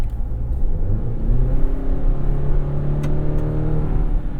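A 2023 GMC Canyon pickup truck's engine pulls steadily under acceleration, a low, gruff drone that climbs in pitch, heard from inside the cab with no voices.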